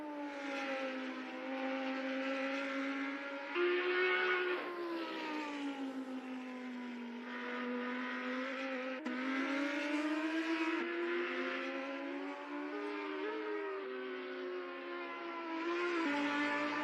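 Race cars lapping a track in the NZ SuperLap virtual racing game, engines droning steadily with rising and falling pitch as they accelerate and shift, one car close and loud throughout.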